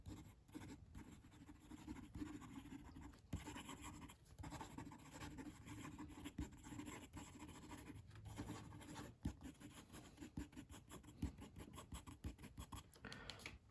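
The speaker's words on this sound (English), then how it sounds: "You can hear it's quite smooth. Not the smoothest pen, but it is very smooth. Quick writing." A pen writes quickly on paper with a soft, continuous, close scratching and brief pauses between strokes, quiet and steady with no talking.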